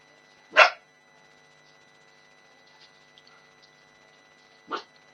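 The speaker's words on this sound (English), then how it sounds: "Sorry about that, it's my dog." A pet dog barks indoors, one loud sharp bark at the start and a softer second bark about four seconds later, with quiet room tone between.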